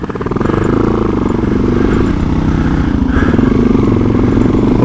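A motorcycle climbs the rough trail up Mosquito Pass, its engine a loud, steady, close throb that runs throughout with slight rises in revs and some clatter.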